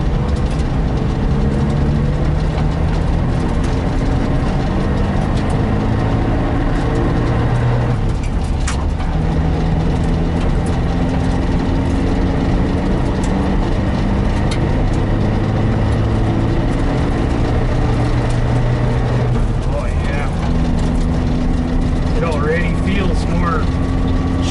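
A Suzuki Samurai fitted with a dual steering stabilizer drives down a highway and onto a gravel road, its steady engine drone and road rumble filling the cabin continuously, with a brief dip partway through.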